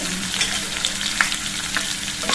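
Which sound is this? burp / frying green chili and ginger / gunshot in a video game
frying green chili and ginger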